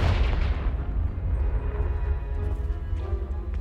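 A Confringo fire spell in Hogwarts Legacy blasts apart a pile of debris blocking a stairwell. A deep, loud boom rolls out at once, and a rumbling tail fades slowly across the whole stretch.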